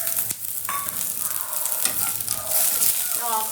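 Ginger and peeled garlic fry in a pan while being stirred, giving a steady, close sizzle with scraping strokes and a brief sharp clatter near the start.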